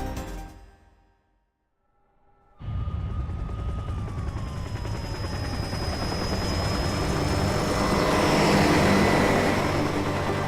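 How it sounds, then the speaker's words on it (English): Navy attack helicopters in the video game Parasite Eve, a loud rotor roar bursting in after a moment of silence and building steadily, with a whining engine tone sweeping across it. "Also, I'm not really sure why the Navy has a bunch of helicopters."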